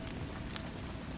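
Rain patters steadily on a roof, a soft, even hiss with no break for about a second.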